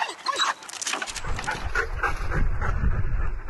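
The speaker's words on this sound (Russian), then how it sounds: "В личном зачете среди патрульно-розыскных собак победу одержал старший сержант Евгений Мерзляков" Police patrol and search dogs at a service-dog training competition let out excited yips and whimpers, fairly close, over steady outdoor background noise.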